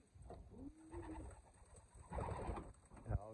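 Racing pigeons coo in a loft with soft, low rolling calls that repeat through the stretch, plus a few brighter chirps and some background rustle.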